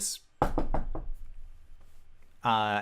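Quick, small knocking at a door: four rapid light raps close together near the start, followed by quiet and a voice at the end.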